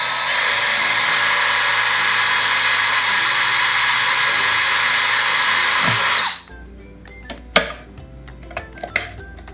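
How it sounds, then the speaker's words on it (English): A power drill whines loudly and steadily for several seconds drilling holes in a plastic bottle, then stops, followed by a few light clicks and handling taps. "Drill 2 parallel holes on the side of the bottle."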